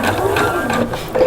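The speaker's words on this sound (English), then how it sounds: "put your finger back there again and push against it and push a little bit of fabric in there and continue sewing" Domestic sewing machine stitching fabric to form a ruffle, a loud close continuous mechanical whir with rapid needle chatter throughout, with faint talk.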